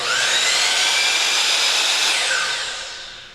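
A compound miter saw makes a bevel cut, its motor whining loudly for about three seconds at close range before winding down.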